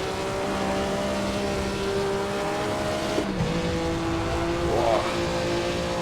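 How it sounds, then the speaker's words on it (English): A 1954 Formula One car in the racing game Assetto Corsa, on the Spa circuit at the Belgian Grand Prix, holds a steady engine drone, then makes a quick gear change midway with a brief dip before the engine pitch climbs again. "Had to make that quick gear change"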